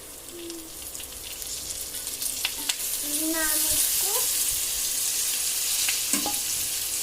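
Fish frying in oil with curry leaves, coriander and chillies, a steady loud hiss and crackle building through the clip, with a few faint utensil clinks and brief background tones, close by.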